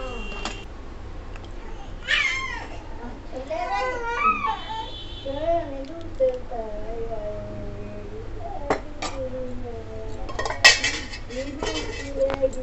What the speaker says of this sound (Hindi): अब मैं इनके टिफ़िन में घाल के रख दूँगी ऑफिस के लिए